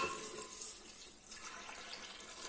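Filtered water runs from a kitchen tap in a quiet, steady stream, with a soft hiss that dips briefly midway before resuming.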